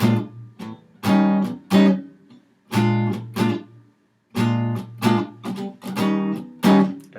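Blues comping on a jazz guitar in a syncopated dotted-quarter-plus-eighth rhythm, full chords struck in short bursts separated by clear gaps, the first and each later hit ringing briefly; close and fairly loud with no talking.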